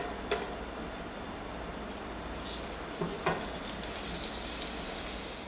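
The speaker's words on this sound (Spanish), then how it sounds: "Freímos también los chiles chipotles" Chipotle chiles frying in oil in a pan, a quiet, steady sizzle with occasional small pops and crackles, close and unaccompanied by talk.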